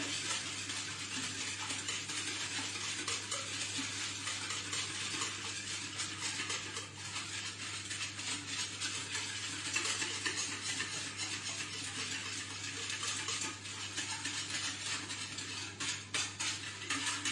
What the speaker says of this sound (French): Je mélange avec mon fouet.